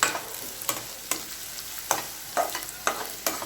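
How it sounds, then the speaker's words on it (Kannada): Onions frying in a pan, with a steady crackling sizzle and periodic scraping stirs recurring about every half second, close and clear with no voices. "ಸ್ವಲ್ಪ ಇಷ್ಟು ಫ್ರೈ ಆದರೆ ಸಾಕು ಈರುಳ್ಳಿ"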